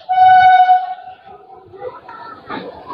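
Krishnanagar–Amghata Halt local train at Krishnanagar station platform: a short, loud horn blast opens, then fades into quieter platform bustle and faint indistinct voices.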